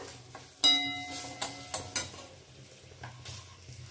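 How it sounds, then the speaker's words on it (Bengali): A spoon stirs onion and turmeric frying in a pan, with a steady soft sizzle under several sharp scraping clinks of utensil against metal. "এবারে আমি এর মধ্যে যেটা পেঁয়াজটা রেখেছি একটুখানি জাস্ট নাড়াচাড়া করবো, খুব ভালো ভাজবো না।"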